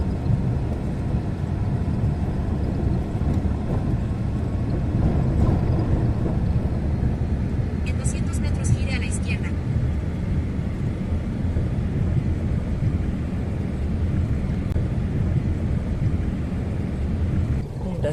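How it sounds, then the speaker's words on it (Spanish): La Trochita, a narrow-gauge steam train on 75 cm track in Patagonia's Río Negro, rumbles steadily with a low, continuous roar, joined briefly by a higher metallic rattle midway. "Este tren a vapor, llamado La Trochita, lleva ese nombre por su trocha angosta"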